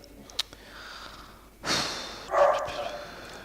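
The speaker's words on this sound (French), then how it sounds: "Désolé pour mon chien." A pet dog in a house gives a couple of short, close huffs and sniffs, with one sharp bark-like burst near the end, fairly loud against a quiet room.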